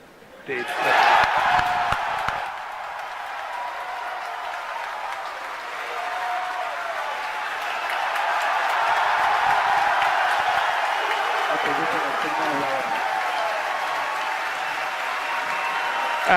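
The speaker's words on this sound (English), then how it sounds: "As you can hear from the cheering here at SpaceX headquarters, we did have a successful main engine cutoff, a stage separation" A crowd at SpaceX headquarters cheers and applauds after a Falcon 9 stage separation, starting with a burst of clapping and shouts, then settling into sustained applause and cheering that swells again toward the end, with voices mixed in.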